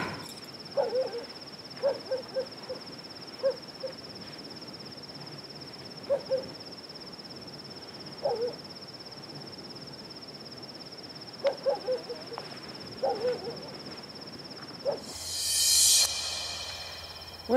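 An owl hoots repeatedly in short, soft calls spaced several seconds apart over a quiet background hum of insects at night, with a brief rushing noise near the end.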